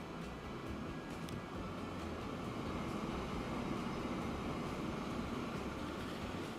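A video game train rumbles along at a steady, moderate level, a continuous rolling drone with faint higher clatter and no speech.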